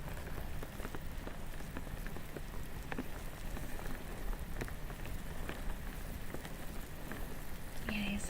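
Steady patter of rain on a car window, dense drumming with scattered louder drops tapping the glass, constant and close, no voices.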